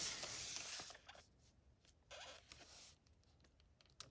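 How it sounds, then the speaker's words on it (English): A blade scoring a box lid one inch in from each side: scratchy tearing strokes come in bursts with short pauses, close up and fairly quiet. "you want to score your lid at 1 inch on every side"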